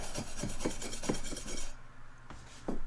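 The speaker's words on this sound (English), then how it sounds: "I'll go through with my little wire brush." Rhythmic raspy scraping strokes, close and fairly loud, about eight back-and-forth passes of a wire brush on cast iron, then a short pause and one more stroke.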